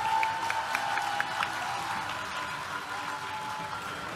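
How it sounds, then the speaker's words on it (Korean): An audience at a Democratic Party innovation conference event applauds steadily, a dense wash of clapping and murmuring crowd noise with a faint tonal ring underneath. "큰 박수 부탁드립니다."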